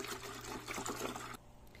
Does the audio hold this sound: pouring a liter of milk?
yes